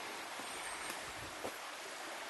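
Bluff Creek, a forest stream at a historic film site, flowing with a steady broadband rush of water throughout, no voices.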